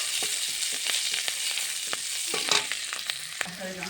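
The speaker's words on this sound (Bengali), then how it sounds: "ফোড়নটা হয়ে গেছে, দিয়ে দেবো কাঁচা লঙ্কা কেটে রাখা।" Chopped green chillies hit hot oil during a tempering, giving a steady loud sizzle and crackle with scattered sharp pops and faint stirring clicks, with no voices.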